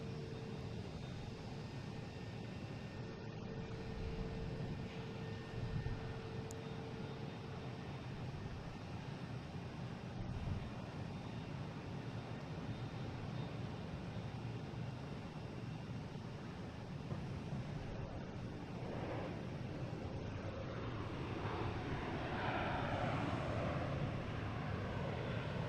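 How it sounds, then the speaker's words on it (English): United Airlines Airbus A321neo jet arriving at the airport, a faint, steady broadband engine rumble and roar heard from a distance amid outdoor ambience, swelling slightly toward the end, without speech. "All right, we have United Airlines coming in from Denver, an A321neo,"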